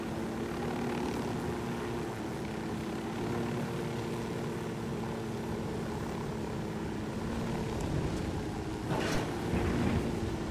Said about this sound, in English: Let's get the helicopter